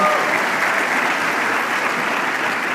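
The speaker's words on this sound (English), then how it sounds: "everyone give her a round of applause" An audience at a summer program closing ceremony gives a steady, dense round of applause for a councilmember, loud and continuous throughout.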